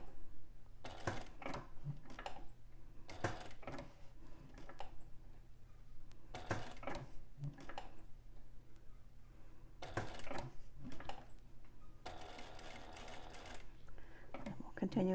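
Sewing machine stitching a bag's interior zipper panel in short bursts, pausing between runs as the fabric is pivoted at corners, with someone talking over and between the stitching.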